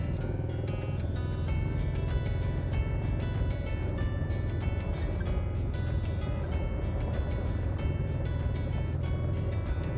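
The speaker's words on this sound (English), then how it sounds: "We're turning on to our first gravel road of the day." A vehicle rolls along a gravel forest road in Tar Hollow State Forest, one of the old Civilian Conservation Corps roads from the 1930s. A loud, steady rumble and crunch runs through the whole stretch with no voices.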